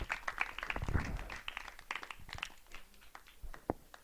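Audience clapping at an outdoor science event in Carbonia, Italy, a brief patter of applause fading after a few seconds with some crowd noise.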